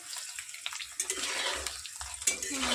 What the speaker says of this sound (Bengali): এবার আমি এগুলো ডিমের টুকরোগুলোকে ভেজে নেব এগুলোকে একটু লাল লাল করে ভেজে নেব